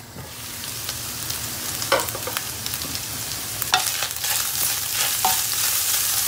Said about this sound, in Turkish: Soğanımız kavruldu.